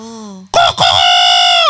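A human voice imitates a rooster's crow, loud and close, with a short held note followed by a drawn-out, wavering cock-a-doodle-doo call.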